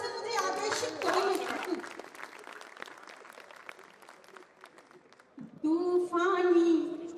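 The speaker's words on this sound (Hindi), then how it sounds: "एक बार तालियों से मुझे आदेशित करो" Audience applause at a Hindi kavi sammelan poetry recital in Rudrapur, a sustained crowd clapping mixed with voices and cheering, rising again loudly near the end.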